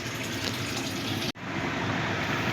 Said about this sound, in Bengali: বন্ধুরা ঝোলটা ফুটে গেছে, এবার আমি ঢাকা দিয়ে দিলাম